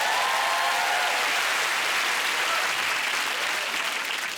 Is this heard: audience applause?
yes